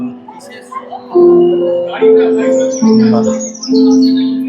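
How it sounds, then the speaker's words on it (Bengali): Recorded birdsong played through loudspeakers at a Jagadhatri Puja pandal in Chandannagar: bright chirps and tweets over soft, sustained background music, with people talking nearby. "চারিদিকে পাখির আওয়াজটা আর এই সফট যে ব্যাকগ্রাউন্ড মিউজিকটা এটা কিন্তু অ্যাকচুয়ালি খুব ভালো লাগছে"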